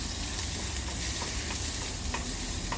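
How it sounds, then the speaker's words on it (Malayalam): Onions sauté in a pan toward golden brown, giving a soft, steady sizzle with a few faint stirring scrapes, quiet and close, with no voices. "ഇട്ടിട്ട് ഒന്ന് വഴറ്റുക. അത് ഗോൾഡൻ ബ്രൗൺ ആകുന്ന വരെ വഴറ്റണം"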